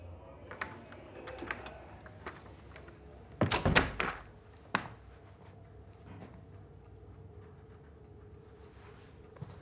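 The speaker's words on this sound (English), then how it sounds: "Shut the door." A door is shut indoors with a short run of solid thuds and knocks, set against quiet room tone with faint cooing birds in the background.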